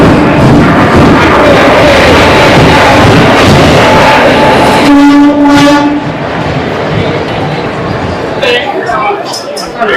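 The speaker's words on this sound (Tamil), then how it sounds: "மக்களே ட்ரெயின் வந்துருச்சுங்க" A train pulls into a station with a loud, sustained horn blast partway through, over the rumble of wheels and the bustle of a crowded platform. Voices of waiting people carry throughout.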